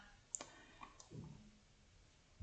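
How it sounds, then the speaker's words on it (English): A computer mouse clicks on a website link, a few faint, sharp clicks spaced apart against a quiet room background. "You click on that"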